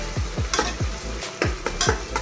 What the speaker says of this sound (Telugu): ఆనియన్స్ ఫ్రై అయ్యాక కొంచెం అల్లం వెల్లి పేస్ట్ వేసుకోవాలి ఇలా ఒకసారి కలుపుకోవాలి